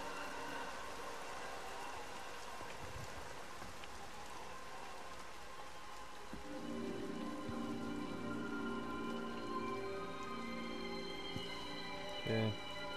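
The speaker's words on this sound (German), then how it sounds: "warum regnet das hier rein" Steady rain from the Everybody's Gone to the Rapture video game falls throughout, a constant soft hiss of drops with a faint tonal hum joining partway.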